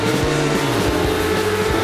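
A racing motorcycle screams around Brands Hatch Indy circuit at a 2006 race meeting, its loud, high-revving engine note rising and shifting continuously as it speeds through the corners.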